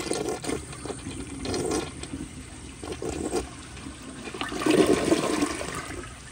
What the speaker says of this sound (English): Here is another flush with an overfilled tank.